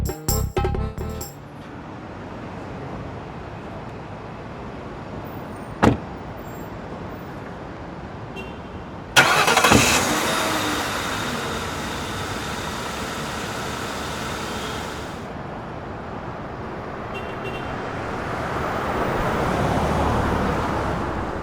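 A car starts up and drives off on a road. A door-like thump and a brief knock come first, then a steady engine and road rumble that rises and fades over a long stretch.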